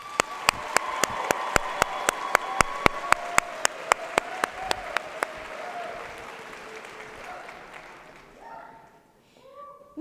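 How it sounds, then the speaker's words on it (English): A large Oregon FFA state convention audience gives its advisors a thunderous round of applause on stage, opening with steady rhythmic clapping that loosens into a dense wash of clapping and fades out as a voice begins speaking. "help me thank our advisors with a thunderous round of applause"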